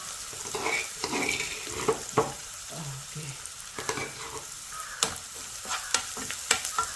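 Dried red chillies fry in a pan with a soft continuous sizzle, broken by scattered sharp clinks and scrapes of a spoon stirring against the pan.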